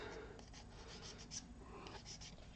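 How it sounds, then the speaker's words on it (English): Hobby file scraping mold lines and sprue marks off plastic miniature parts for an Imperial Knight model, a steady run of close, soft rasping strokes with no talking. "We'll take our files and clean up the mold lines and the snip sprue lines on all of these pieces."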